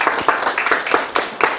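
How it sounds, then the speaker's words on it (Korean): An audience clapping for a pastor after a lecture, distinct rhythmic claps close by, a fairly small group keeping an even beat. "열정적으로 강의해 주신 김태훈 목사님께 다시 한번 박수 부탁드리겠습니다"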